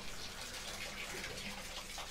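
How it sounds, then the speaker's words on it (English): Water starts flowing through the refitted nozzles and pipes of an old crop sprayer in Farming Simulator 19, a continuous, even rushing hiss, close and steady throughout. "So we'll just turn this water on."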